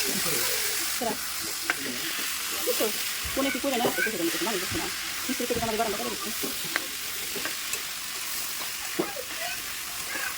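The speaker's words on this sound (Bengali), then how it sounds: "দেখতে পাচ্ছেন বিরিয়ানির চালটা আমি ভেজে নিতেছি" Biryani rice fries in a pan with a steady broadband sizzle, overlaid by frequent scraping and clattering stirring strokes. Faint talk can be heard in the background.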